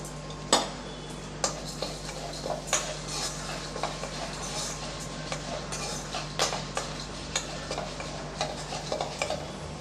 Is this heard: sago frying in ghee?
yes